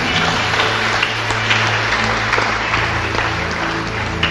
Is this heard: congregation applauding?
yes